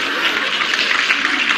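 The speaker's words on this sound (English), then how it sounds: "Try to keep the applause and the rally in the studio down to a minimum." Studio audience applause on a 1975 CBS daytime game show, a dense steady patter of many hands clapping at moderate volume for a brief stretch, with no gaps.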